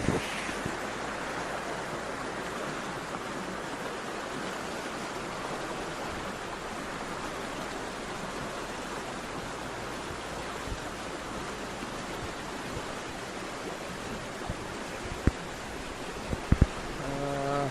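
Water rushing over a small check dam, a steady, loud broadband roar that holds constant throughout, with a few faint clicks near the end.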